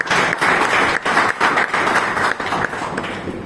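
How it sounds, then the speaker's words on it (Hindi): Audience applause at a yoga talk on human welfare, a dense burst of clapping from a seated crowd that swells and dips in short waves for a few seconds, fairly loud and close with no talking over it. "इसके लिए एक ताली बजाइए।"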